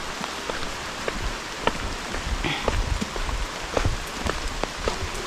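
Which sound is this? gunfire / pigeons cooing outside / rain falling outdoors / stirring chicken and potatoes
rain falling outdoors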